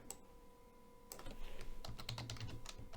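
Quick keystrokes on a computer keyboard, a short burst of close, crisp clicks after a brief quiet start, with no speech.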